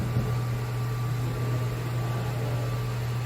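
A Haas VM-2 CNC vertical machining center with its spindle running at about 7,000 RPM, giving a steady, unbroken hum with a constant tone over a wash of hiss, even and sustained throughout.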